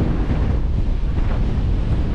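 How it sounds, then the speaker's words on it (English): Strong wind sweeps the coast at Hamble Point in Hampshire, a loud, continuous low rumble of gusts battering the microphone with no other sounds. "And it's very windy."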